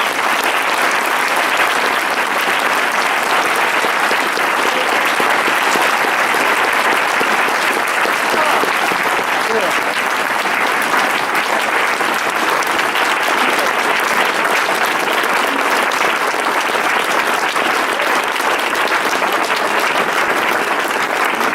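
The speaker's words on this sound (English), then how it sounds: "I hope you will join me in a hearty round of applause for these strong candidates" A large audience at a local candidate forum in Kings Beach applauds steadily, dense and loud, sustained for about twenty seconds with no clear break.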